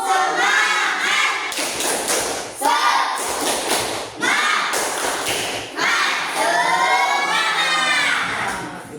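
Children in a classroom shout and clap together in a loud rhythmic chant, the tepuk semangat spirit cheer, with dense voices and claps filling the whole stretch.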